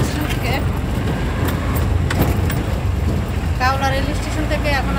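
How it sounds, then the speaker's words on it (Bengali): A CNG auto-rickshaw ride heading out from a railway station, its engine and road rumble droning steadily throughout, while people talk over it and small rattles and jangles come from the cabin. "এখন আমরা এই যে একটা সিএনজি নিয়েছি"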